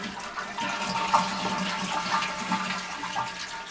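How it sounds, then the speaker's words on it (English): Water rushes and gurgles steadily from a toilet tank as the trip lever is held down to drain it, a continuous near flow with small splashes and no voices. "we'll go ahead and pull the trip lever, get all the water out of the tank."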